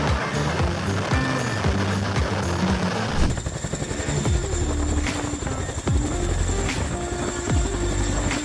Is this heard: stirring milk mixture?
no